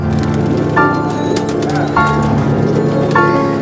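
Racing pigeons coo close by in a loft, soft repeated throaty calls recurring every second or so over a constant background hum.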